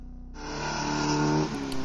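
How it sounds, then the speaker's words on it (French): Alfa Romeo 33 with a leaking exhaust manifold, its engine rising in a brief revving pull and then easing off, close and fairly loud. "Vous entendez cette belle fuite au collecteur d'échappement?"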